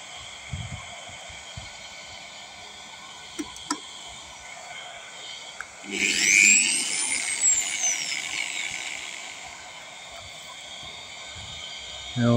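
Quiet room tone with a few faint knocks, then an electric drill powered from a Tesla's vehicle-to-load outlet whirs up loudly, its pitch rising and falling, before settling into a low hum.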